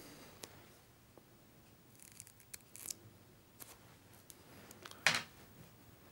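Small scissors snipping feather fibre sections away from a quill while tying a traditional wet fly, several quiet crisp clicks and snips scattered irregularly, close and alone.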